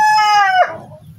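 A rooster crows loudly and close by in one ringing, harmonic cock-a-doodle-doo that falls away at the end, over a faint background of chickens clucking softly.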